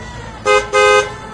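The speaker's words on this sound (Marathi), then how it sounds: "एवढे हॉर्न वाजवते" A car horn sounds in two loud, close blasts, the second longer than the first, with a short gap between them and quiet street noise before and after.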